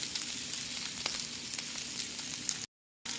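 Potatoes for spicy Pindi-style aloo fry in a pan with a steady, close, crackling sizzle and scattered pops, cutting briefly to silence near the end.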